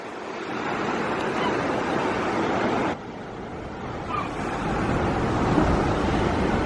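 Steady, loud roar of ocean surf washing in without a break, swelling slightly toward the end, with no one speaking.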